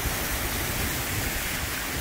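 A forest stream rushes down toward the ocean, a steady broadband wash of flowing water heard close and continuous, with no talking.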